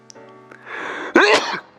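A single sharp sneeze bursts out after a brief breathy build-up, close and loud.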